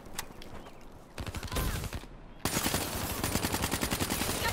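Automatic gunfire from the Black Ops 3 video game, rapid bursts of shots that start sparse, then become a dense, loud, continuous stream of rounds through the second half.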